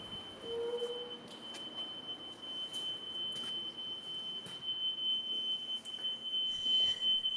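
An alarm sounds steadily, a thin high electronic tone held throughout with brief clicks and background rustle, heard at the York Minster during a walking tour.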